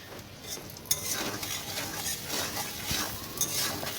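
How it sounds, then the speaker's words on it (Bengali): A spoon stirs turmeric powder into hilsa fish curry in a pan, giving a steady scraping and faint sizzle with a few sharper clinks, close and moderately loud, with no talking. "হলুদ গুঁড়ো দেওয়ার পর আবার নাড়াচাড়া করে নিচ্ছি"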